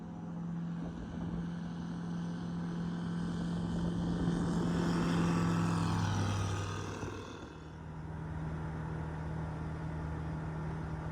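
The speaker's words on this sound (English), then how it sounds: "The 100 horsepower engine delivers a lot of power to the Savannah S" An ICP Savannah S light aircraft with a 100 horsepower engine drones steadily during climb, a propeller hum swelling louder in the middle then easing back, heard from the cabin without talk.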